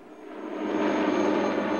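Pakistani army helicopter flying up the Baltoro Glacier toward Concordia, a broad engine and rotor roar that swells in over the first second and then holds steady and loud.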